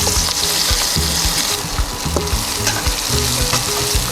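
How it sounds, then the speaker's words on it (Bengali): Pointed gourd (potol) fries in hot oil in a pan, a loud, dense, continuous sizzle with scattered crackles and pops and occasional stirring scrapes, no voices. "এবার আমি আরেকটু তেল দিচ্ছি, এবার ভাজবো পটল।"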